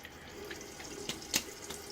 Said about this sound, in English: A little water on the face.